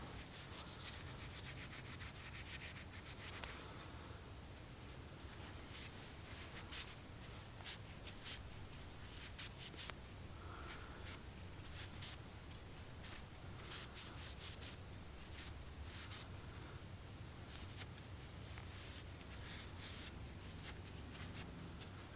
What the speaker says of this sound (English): is really good for polishing up your knives and cleaning them